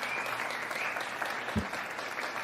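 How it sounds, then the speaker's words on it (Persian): Audience applause at the Miss Iran 2024 pageant, a steady wash of clapping from a large crowd that carries on evenly throughout. "لطفاً تشویق بفرمایید"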